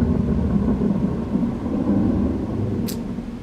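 Thunder from the video game Mimic rolls as a continuous low, heavy rumble at a steady loudness, with no one speaking over it.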